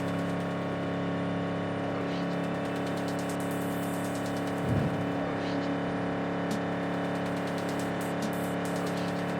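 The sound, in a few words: car driving at high speed in Cyberpunk 2077 video game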